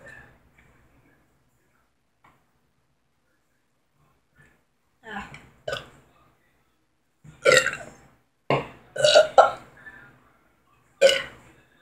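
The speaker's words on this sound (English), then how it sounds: "I'm trying not to burp, but it just happened." Several loud, close burps after drinking banana with Sprite, spaced irregularly through the second half after a quiet start, some coming in quick pairs.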